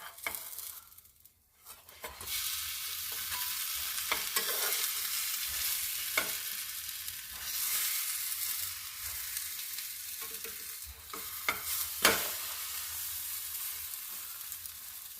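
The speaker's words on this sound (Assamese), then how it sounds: "মই এতিয়া লাহেকৈ ইলুটি শিলুটি কৰি দিম।" A spoon stirs dal and egg in a hot pan, a continuous sizzle broken by repeated scraping strokes, close and clear with no talking.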